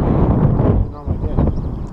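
Gusty wind buffets the microphone in low rumbling bursts outdoors during bowfishing for carp, loud and close, easing briefly before picking up again.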